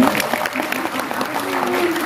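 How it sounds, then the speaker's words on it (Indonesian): Audience applause at a gathering of Indonesian listeners in Hong Kong, a dense steady patter of clapping mixed with crowd noise and a voice speaking over it. "Tepuk tangan sih Bu Su ini."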